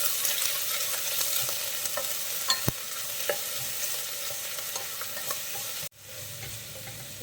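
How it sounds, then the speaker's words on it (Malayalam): Sliced onions sauté in a pan for mutton curry, a bright continuous hiss with soft stirring scrapes and a sharp tap, cutting briefly near the end before the sizzle resumes. "സവാള ചേർത്തിട്ട് നന്നായിട്ട് വഴറ്റി കൊടുക്കാം."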